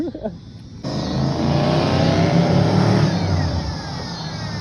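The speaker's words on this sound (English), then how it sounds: "Nice little one-wheel peel" A Honda Accord or GMC Sierra 2500 does a one-wheel peel burnout, its engine roaring loudly and steadily as the tire spins, after a brief quieter start.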